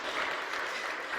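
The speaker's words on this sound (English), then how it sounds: "sure, you can, if you want to applaud." Applause from a church congregation in a sanctuary, a steady broadband patter of clapping hands filling the whole moment without any talking over it.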